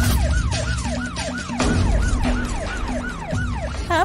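Ambulance siren wailing in a rapid, repeating rising-and-falling pattern, loud and close over a steady vehicle rumble, with no voices.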